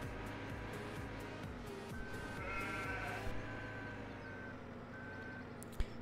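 Sheep bleat repeatedly in the farming game Landwirtschafts-Simulator 17, mixed with a vehicle's engine hum and steady reversing beeps from a loader on the farm.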